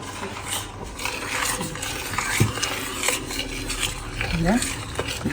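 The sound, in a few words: stirring porridge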